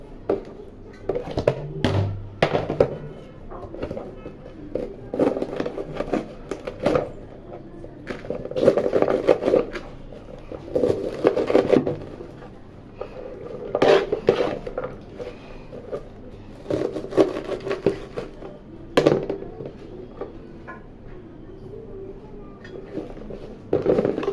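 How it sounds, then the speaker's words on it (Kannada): Dantu (amaranth) greens are finely chopped with a knife, a run of irregular scraping, tapping cuts against a board in uneven bursts, fairly close, with brief pauses between clusters and no talking over them. "ಇವಾಗ ಸಣ್ಣ ಸಣ್ಣದಾಗಿ ಕಟ್ ಮಾಡ್ಕೊತೀನಿ"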